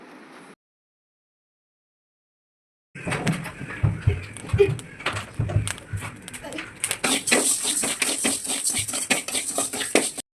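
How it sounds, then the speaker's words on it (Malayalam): Rice grains roasting in a pan while being stirred, with scattered sharp crackles and pops among scraping and clinking of a utensil against metal. The sound is close and busy after a stretch of silence. "ഇടയ്ക്ക് ഇങ്ങനെ അരി പൊട്ടുന്ന സൗണ്ട് കേൾക്കുമ്പോൾ ഏകദേശം അത് ആയി എന്നാണ്"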